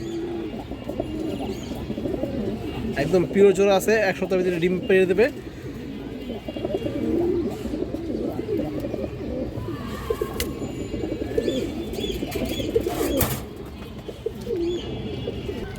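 Giribaj high flyer pigeons, a breeding pair of pigeons, coo repeatedly in soft, rolling bursts close by while someone talks over them almost throughout.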